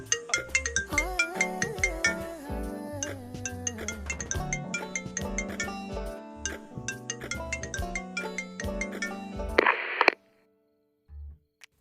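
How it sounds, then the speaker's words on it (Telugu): A mobile phone rings with an incoming call, a bright melodic ringtone looping steadily for about ten seconds before cutting off abruptly, followed by near silence. "ఇదేంటి, ఇందాక వచ్చిన కాల్ మళ్ళీ వస్తుంది?"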